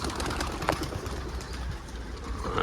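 A young pigeon coos softly in short bursts amid a busy, close background hum.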